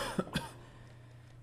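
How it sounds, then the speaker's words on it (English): Two quick coughs close to the mic, one right after the other, followed by quiet room noise. "there I go again, coughing"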